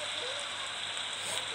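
Steady rain in the farming video game Stardew Valley, a dense continuous hiss of falling drops at an even level with no talking.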